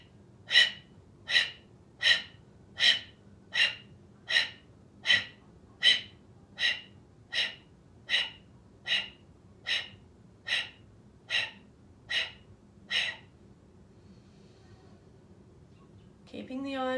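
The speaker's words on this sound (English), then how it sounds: "taking a deep inhale through the nose." A yoga practitioner does Kapala Bhati breath of fire, about sixteen sharp, forceful nasal breaths in a steady rhythm, close and clear, fading into quiet before a faint sound at the end.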